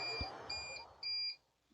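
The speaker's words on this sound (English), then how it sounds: "So I'm gonna go fix the beeping thing and I will be right back." Several short, high electronic beeps repeat in a room, the last few sounding in quick pairs. Low background noise and a brief thump sit underneath, and no one speaks.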